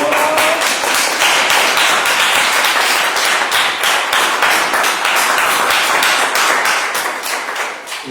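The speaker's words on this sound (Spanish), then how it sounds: "Denle un aplauso, Señor." A church congregation applauds during a sermon, a dense steady wash of many hands clapping for about eight seconds before tapering off near the end.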